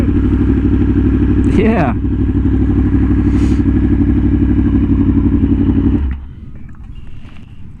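A Harley-Davidson Sportster motorcycle rumbles steadily nearby with a loud, low engine drone, then fades sharply toward the end as it passes; a voice speaks briefly over it.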